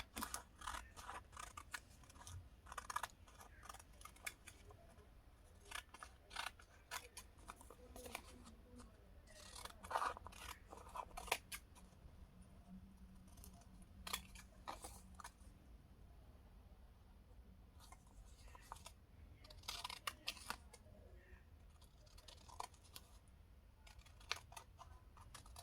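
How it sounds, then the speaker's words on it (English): Scissors snip through fabric while cutting out pieces for a stylish bubu top, producing repeated short crisp cuts in irregular bursts, fairly quiet and close against a soft background. "And now I'm going to be cutting out."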